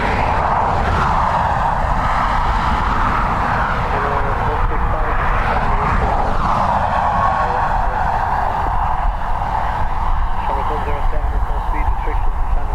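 An airliner leased to Aer Lingus and due for retirement departs Dublin Airport, its engines a steady, loud roar that holds throughout while people talk over it.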